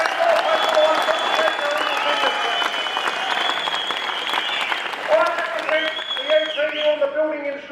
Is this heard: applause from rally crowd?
yes